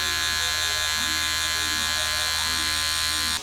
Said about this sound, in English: Now begin by blending this line out with my clipper lever closed